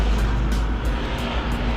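A route 6 city bus passes near the Chao Phraya River, producing a loud, steady engine roar and road rumble close by, with no voices.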